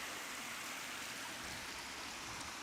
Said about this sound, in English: We found this cool little waterfall.